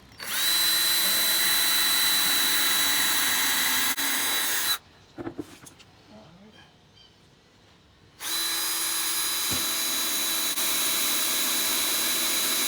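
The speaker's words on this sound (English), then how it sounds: "We'll pilot hole first, so that we do not rip through the plywood." A power drill bores pilot holes into plywood for a boat's shower basin base, whining loud and close in two long sustained runs with a short quieter gap between them.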